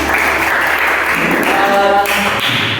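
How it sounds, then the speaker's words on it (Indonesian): Students in a classroom applaud during a microteaching session, giving a loud, dense round of clapping that holds steady for about three seconds with some voices mixed in. "Kasih tepuk tangan."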